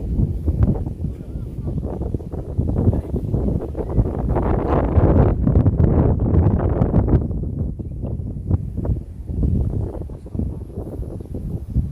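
Monsoon wind roars and buffets against the microphone throughout, heavy and gusty, while a kite is flown, with a person's voice partly audible underneath.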